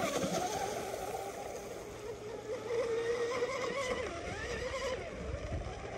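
A Proboat UL-19 RC boat with a Tenshock motor launches at full throttle on water, producing a continuous loud, high-pitched motor whine with splashing and rushing water throughout.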